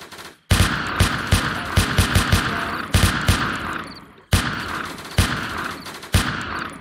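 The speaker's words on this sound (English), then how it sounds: "I'm missing all my shots" Gunfire in the video game Blacklands Alpha: loud, close bursts of rapid shots with short pauses between volleys, several sharp reports ringing out in quick succession.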